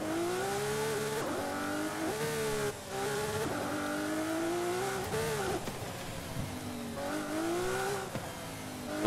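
A Lamborghini Aventador SVJ supercar in the racing game Forza Horizon 5 revs hard and loud, its engine note climbing and dropping through repeated gear changes with brief tire squeal, heard close and alone.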